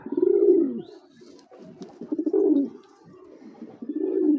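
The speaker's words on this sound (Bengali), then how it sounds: "এক জোড়া একদম ব্ল্যাক চেকার একটা পেয়ার দেখাচ্ছি" A pair of black checker racing pigeons coo nearby, three separate throaty rolling coos spaced a second or so apart with quiet gaps between them.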